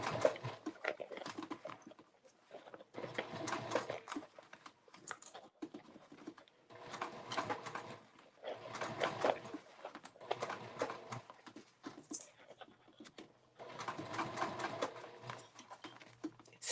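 A domestic sewing machine stitches binding onto a round fabric bag in several bursts of whirring, separated by short pauses, close and steady with no talk.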